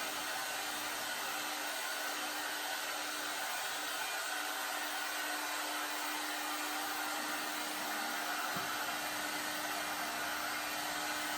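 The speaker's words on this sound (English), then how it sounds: "So I'm just going to put a bit of heat gun just on the material a minute." A heat gun blows steadily on car seat material during a Morris 1000 seat webing and padding replace, a constant loud airy whir with a faint tonal hum running unbroken throughout, no voices.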